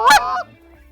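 A goose gives a single loud, close honk during a January waterfowl hunt, a short nasal blast that fades quickly into quiet.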